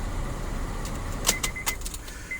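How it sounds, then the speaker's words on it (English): Keys jingle and click as the key is switched off and pulled from the ignition of a 2006-2014 Honda Ridgeline, a few short metallic clinks close by inside the quiet cab. "We'll now shut the key off and remove it from the ignition."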